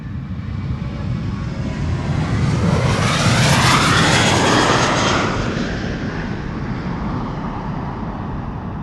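A Transavia airliner takes off from the Polderbaan runway 36L at Amsterdam Schiphol on a sunny morning, a loud, broad jet roar that swells to a peak mid-clip and then slowly fades as the aircraft passes and climbs away.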